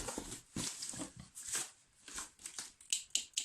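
Scissors snip and rustle at a parcel in quick, irregular bursts of cutting and crinkling packaging, faint and close by, with no talk.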